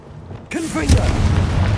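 A Confringo fire spell goes off in Hogwarts Legacy, a sudden blast erupting after a quiet moment and rolling into a dense, rumbling burst that stays loud to the end.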